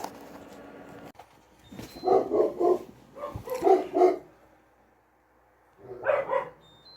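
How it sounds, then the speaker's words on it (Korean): A dog indoors barks in short bursts as it notices someone nearby, two clusters of loud, close woofs separated by a quiet gap, with no talk over them. "인기척에 짖기 시작합니다"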